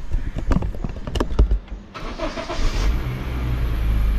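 A car's engine turns over after a few mechanical clicks and settles into a steady low idle, humming evenly and close by, during do-it-yourself car air-conditioning maintenance.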